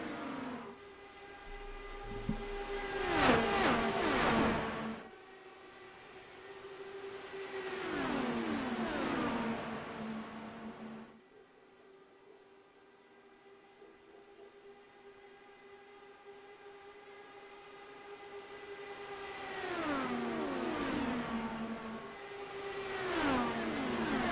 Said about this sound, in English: Shane Coogan and Luis Gonzalez Nunez drag race to the line.